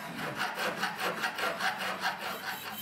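Rhythmic back-and-forth rasping of a hand file on metal as silversmiths work table lamp rods, about a dozen even strokes in a steady rhythm, close and fairly quiet.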